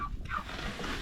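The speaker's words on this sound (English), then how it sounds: "I really enjoy these turkeys" A short turkey gobble on a ranch rings out over a low rumbling background, one brief warbling call heard from a moderate distance.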